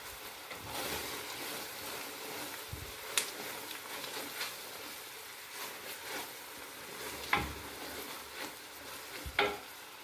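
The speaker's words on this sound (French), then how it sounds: "on laisse caraméliser doucement les oignons" Sliced onions with sugar cooking down for a plum chutney, a steady low sizzle in a pan under soft stirring, with a few sharper spoon scrapes and knocks against the pan, no talking.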